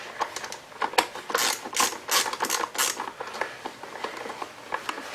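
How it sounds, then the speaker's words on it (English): Screws being backed out of a worn Stihl TS400 cut-off saw during teardown, giving a close series of quick ratcheting, clicking mechanical bursts with short pauses between turns, no talking. "Take screws out of here."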